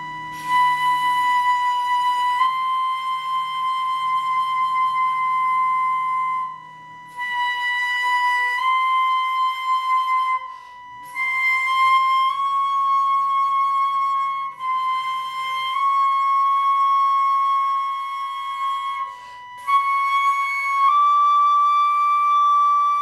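A solo flute plays a slow ascending scale from the B above the staff up toward high B, each sustained note stepping higher with short breath pauses between phrases, clear and close.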